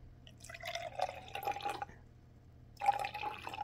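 Water poured into a plastic microwave cleaner already holding white vinegar, two short bursts of close, quiet trickling and splashing separated by a pause, with no talking.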